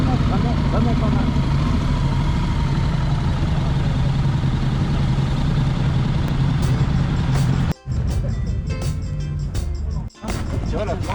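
A crowd of motorcycles at the Wheels and Waves meet sends up a continuous heavy engine rumble, close and steady, with people talking over it and two brief drops in the noise near the end.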